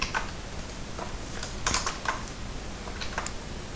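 Computer keyboard keys tapped during a Control X cut shortcut while editing HTML, a few quiet, close clicks scattered irregularly with one brief cluster of quick presses.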